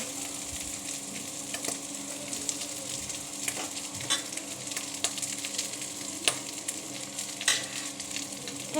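Egg and cooked white rice stir-fry in a pan with carrot and cauliflower, giving a steady sizzle and frying hiss broken by repeated scraping and stirring clicks from a spatula, close and moderately loud with no talk.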